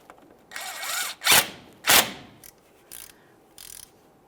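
A power tool snugs a mounting bolt on a front upper control arm with ball joint on a 1999-2006 Chevrolet Silverado, running in about five short, loud bursts, two longer whirs followed by quicker clipped pulses.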